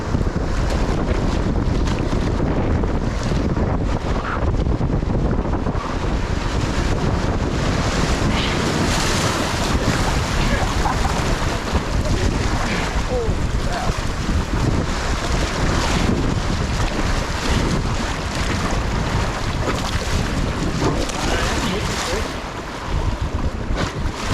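Whitewater rapids roaring around a raft on a river near Jackson Hole, a constant loud rushing wash with heavy wind buffeting the microphone throughout.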